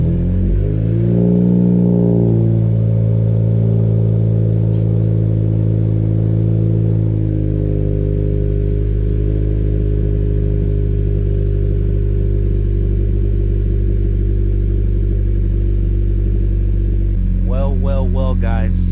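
A 2020 Honda Civic Si with a PRL downpipe idles on a lift after a cold start, its engine steady and loud up close, with a brief rev near the start and a short voice near the end.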